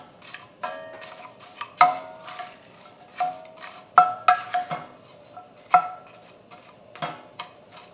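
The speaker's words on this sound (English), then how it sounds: "When this fish is stir-fried with a little bit sesame oil" Dried pollock stir-fried with sesame oil in a pot, a spoon or spatula scraping and clattering against the metal in irregular bursts over a soft sizzle, close and alone with no talk.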